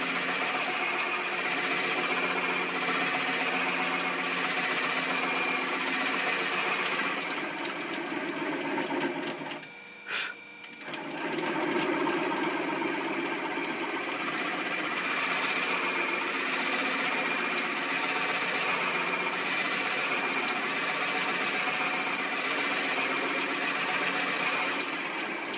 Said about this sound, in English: You don't want the spoon bit to overheat.